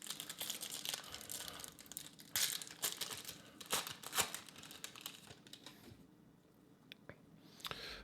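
Foil wrapper of a Lord of the Rings collectible card booster pack being torn open and handled, close crinkling and sharp tearing crackles in irregular bursts that fade toward the end.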